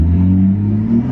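A 500hp BMW 440i accelerates with a deep, steady engine rumble and strong low tonal drone, close and loud for a brief moment, with no talk over it.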